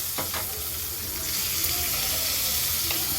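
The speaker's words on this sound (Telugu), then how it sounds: "మనం రెడీ చేసుకున్న తాలింపుని మనం ముందుగా కలిపి పెట్టుకున్న పచ్చడిలో వేసుకోవాలి" Hot oil tempering with turmeric hits cucumber yogurt chutney, giving a steady close sizzle and crackle that swells slightly partway through, with a few clinks of a spoon or pan.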